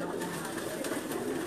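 Pakistani pigeons coo softly on a rooftop in Jeddah, Saudi Arabia, in a short, continuous murmur close by.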